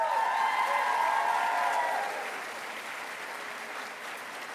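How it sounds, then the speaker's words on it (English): Audience applause at a university nursing honors convocation, loud at first with a cheer or whistle over it, then tapering to a quieter, lingering patter. "let's give them a round of applause"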